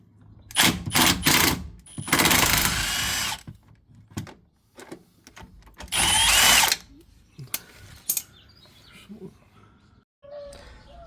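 A power tool zaps out 13 mm bolts on a Chevrolet Sierra ABS pump bracket through a socket on a small extension, several loud whirring bursts between ratchet clicks and tool clatter, with a voice talking in between.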